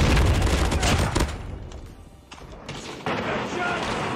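A frag grenade blast and surrounding gunfire in Call of Duty, a loud burst of explosive noise and shooting that fades into a quieter stretch before heavy firing resumes, with game voices faint underneath.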